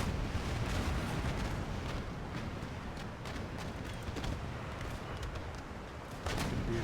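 Warship cannon broadsides in Empire Total War rumble as a dense, continuous roll of overlapping booms and crackling shots, loud and steady throughout with no clear gaps between guns.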